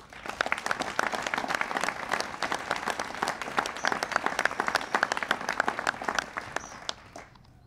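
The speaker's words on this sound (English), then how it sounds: "Please give them a round of applause." An audience applauds two honorees at a presidential event on auto emissions. Steady, close clapping from a sizable crowd carries on for several seconds and tapers off at the end.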